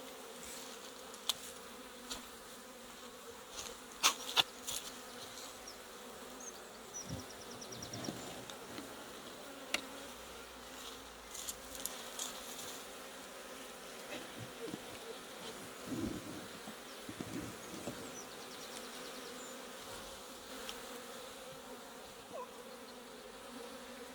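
Honey bees buzz steadily throughout a beehive inspection, a soft continuous drone with scattered nearer passes and occasional light clicks and handling noises, no talking.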